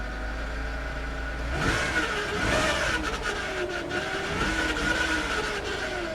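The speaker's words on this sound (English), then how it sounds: "Power steering is making horrible noises." A car's failing power steering pump whines and groans over the idling engine, a loud continuous strained drone that swells as the wheel is worked.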